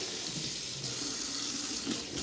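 Cold water runs from a kitchen tap as a Brita filter cartridge is rinsed, a close, steady splashing hiss.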